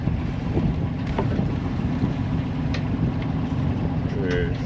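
A 32ft sailboat under sail in Denmark with the engine shut off: steady wind rush and water washing along the hull, with faint creaks and a brief voice near the end.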